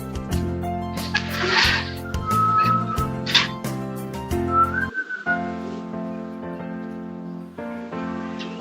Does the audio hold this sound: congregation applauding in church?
no